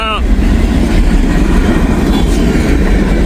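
A freight train with empty auto rack cars rolls past close by in snow, a loud steady rumble with rhythmic wheel clatter, preceded by a brief horn-like tone at the start.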